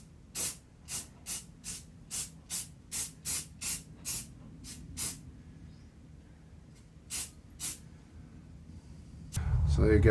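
Short bursts of an aerosol rust-protection coating sprayed onto the wheel arch of a Mk4 VW Golf GTI, about ten quick rhythmic hisses, a pause, then two more, close and crisp with no talk.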